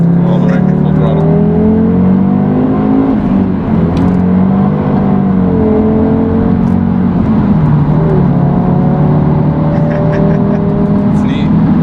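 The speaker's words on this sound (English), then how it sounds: "This is probably one of the coolest sounding engines I've ever heard." A 2013 Audi TT RS engine runs at full throttle, loud and continuous from inside the car, its droning pitch climbing repeatedly and dipping at each gear change.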